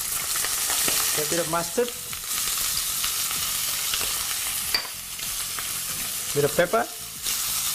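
Mustard prawns fry in a pan with mustard, pepper and turmeric, giving a steady close sizzle with a few stirring scrapes while a person talks over it.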